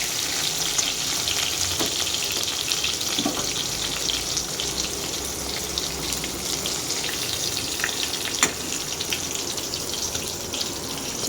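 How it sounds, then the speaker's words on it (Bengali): Pointed gourd (potol) pieces fry slowly in hot oil until reddish, giving a steady, close, continuous sizzle with faint stirring and crackles, and no talking. "পটলগুলো দিয়ে দিয়েছি তেলের মধ্যে, এবার পটলগুলো আস্তে আস্তে ভাজা হোক"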